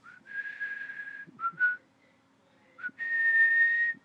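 A person whistles alone in a quiet room, with clear sustained notes broken by short pauses and quick sliding chirps, close and moderately loud.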